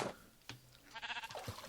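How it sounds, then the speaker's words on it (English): A Minecraft sheep gives one wavering bleat, fairly close, amid faint game sounds and a few soft clicks. "There's a sheep."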